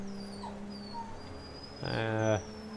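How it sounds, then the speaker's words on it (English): A dog in a video game whimpers with high, thin whines after a car crash, then lets out a louder drawn-out squeal near the end, over a low steady hum. "Might be able to hear the dog squealing behind me, whinging."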